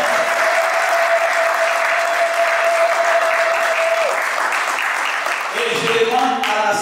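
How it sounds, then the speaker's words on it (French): A wedding congregation applauds in church with dense, loud, steady clapping throughout, while a voice speaks over it near the end. "On acclame le Seigneur."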